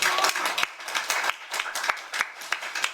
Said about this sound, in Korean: 큰 박수로 한번 모셔보도록 하겠습니다